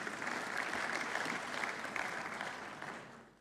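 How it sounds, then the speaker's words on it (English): Conference room audience at an African investment summit breaks into applause, a dense, sustained wash of many hands clapping at once, steady and fairly loud before tapering off at the end. "Let's give another round of applause."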